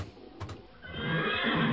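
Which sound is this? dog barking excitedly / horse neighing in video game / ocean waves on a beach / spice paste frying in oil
horse neighing in video game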